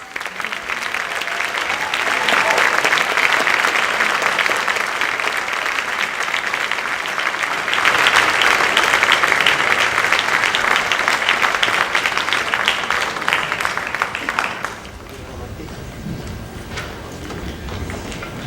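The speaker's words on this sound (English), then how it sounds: "Let's give a round of applause." An awards ceremony audience breaks into long, loud applause that swells and stays full for about fifteen seconds before dropping off abruptly to scattered, quieter clapping.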